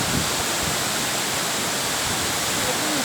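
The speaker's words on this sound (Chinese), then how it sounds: "所谓的处女瀑布。" Virgin Falls in Manyueyuan Forest Recreation Area roars as a steady, loud wash of falling water, constant and close, with faint voices barely audible beneath it.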